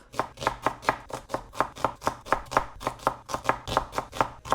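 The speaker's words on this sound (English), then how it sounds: "I'm just going to roughly chop them up" Two medium onions roughly chopped on a cutting board: a steady, brisk run of about seventeen close knife strikes, evenly spaced and crisp, with no talking.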